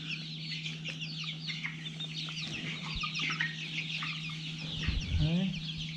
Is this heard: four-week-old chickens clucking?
yes